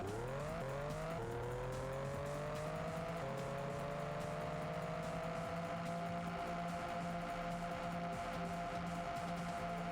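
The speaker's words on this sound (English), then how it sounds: "Dude has like jet engines on his car." A video game car fitted with jet engines drives along, a steady whining engine drone whose pitch climbs in stepped surges then holds high and even, loud and continuous with no talk.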